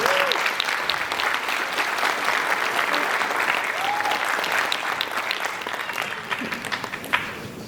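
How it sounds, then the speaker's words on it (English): A concert audience applauds a jazz band conductor before the first tune, with steady, full applause from a sizable crowd, a few whoops rising above it, lasting several seconds. "So give him a round of applause."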